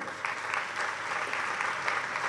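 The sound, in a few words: audience applause welcoming Acharya Swami Sri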